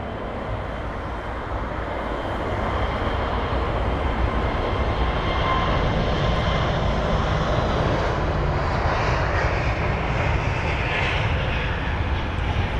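A Swiss Airbus A321neo jet airliner roars past at London Heathrow, a broad loud engine rumble and whoosh that builds after a couple of seconds and holds steady as it passes.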